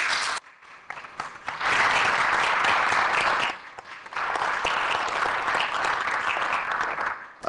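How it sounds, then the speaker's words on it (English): Applause from a gallery audience fills a parliamentary chamber during a Seanad tribute to an Irish Times reporter, sustained and loud with two brief dips, no talk over it. "the round of applause beat me to the cue"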